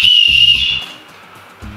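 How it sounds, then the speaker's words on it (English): A sharp, shrill safety whistle built into the strap of an Osprey Farpoint 55 travel backpack's day pack sounds in one loud blast lasting just under a second, then fades out under faint low handling noise. "on the day pack, it's a whistle"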